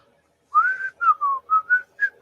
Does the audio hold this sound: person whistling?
yes